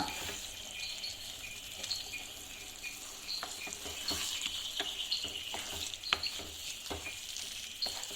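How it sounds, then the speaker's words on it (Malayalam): A gobi manchurian mix is stirred in a sizzling pan, with steady frying hiss and a series of soft scraping clicks from the stirring, fairly faint and without talk. "ഫുള്ള് ഒന്ന് കൂട്ടി ഇളക്കാവേ."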